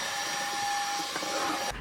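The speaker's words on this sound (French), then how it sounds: "Un petit coup d'aspirateur." A vacuum cleaner running inside a camper van, a steady close whine with a constant high tone that cuts off abruptly at the end.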